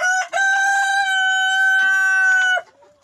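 Rooster-style crowing from one of a flock of seven-month-old RTL laying hens: a single loud, close, sustained crow lasting over two seconds, alone without any talk.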